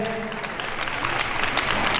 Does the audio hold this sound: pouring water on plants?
no